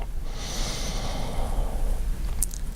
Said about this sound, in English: let's begin this with a gentle, deep breath in